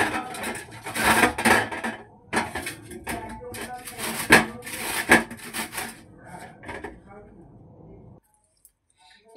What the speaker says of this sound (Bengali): আমটাকে কেটে নিয়েছি, খোলা ছাড়িয়ে নিয়েছি। এবার এটার মধ্যে ঘষে নেব।